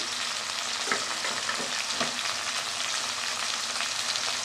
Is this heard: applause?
no